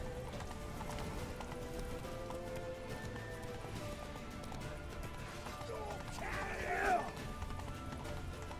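Horse hooves clip-clop in The Witcher 3 during a mounted escape toward a temple, a steady galloping beat under a busy game mix of music and noise, with a brief whinny-like flare near the end.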